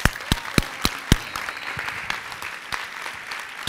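A conference audience applauds in Saltillo, opening with several sharp, separate loud claps before settling into a steadier, softer patter of clapping from the crowd.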